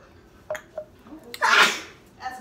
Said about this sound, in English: That's me sneezing.